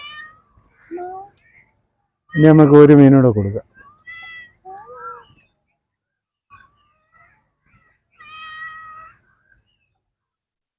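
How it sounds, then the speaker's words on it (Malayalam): A pregnant cat gives one loud, drawn-out meow close by, surrounded by a person talking with quiet pauses. "ഇത് ഗർഭിണി പൂച്ചയാ."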